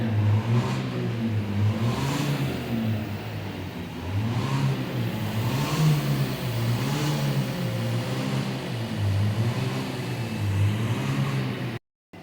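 A car engine idles steadily with low rumbling pulses, its pitch shifting slightly now and then as the automatic transmission shifts between drive and reverse, ending in a brief drop-out.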